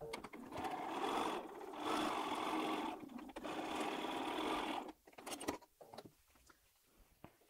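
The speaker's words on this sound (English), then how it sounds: "I'm going over to the machine to join these." A domestic sewing machine stitches quilt pieces cut from jelly roll strips, running in three steady bursts of a second or so each, with short pauses between, then falling to quieter handling noises and clicks.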